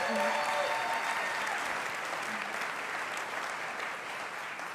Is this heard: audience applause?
yes